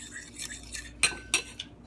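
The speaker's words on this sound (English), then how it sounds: "just make sure it's all well stirred up" A utensil stirs a seasoned egg mixture in a dish, making a few close, sharp clinks and scrapes of metal against the dish over a couple of seconds.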